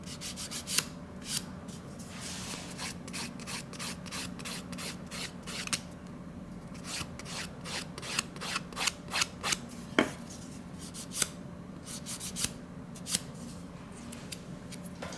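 Hand file smoothing the edge of a piece, heard as a close run of quick, rhythmic rasping strokes with short pauses between bursts.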